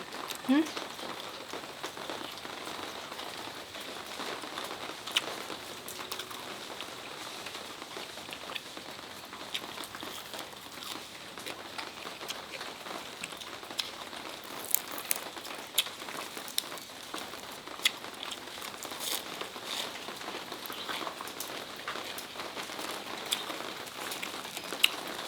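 Steady rain patters and crackles on a surface throughout, a dense continuous hiss with scattered sharper drops, while a person speaks now and then over it.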